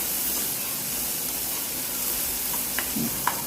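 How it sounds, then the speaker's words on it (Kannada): Peanuts and onions fry in oil for rava upma, giving a steady, close, even sizzle with a few faint clicks of stirring near the end. "ಮತ್ತು ಸ್ವಲ್ಪ ಶೇಂಗಾ ಆ್ಯಡ್ ಮಾಡ್ಕೊತಾ ಇರೋದು, ಮತ್ತು ಇದಕ್ಕೆ ಈರುಳ್ಳಿ ಕೂಡ ಆ್ಯಡ್ ಮಾಡ್ಕೊತಾ ಇರೋದು. ಚೆನ್ನಾಗಿ ಫ್ರೈ ಆಗಬೇಕು."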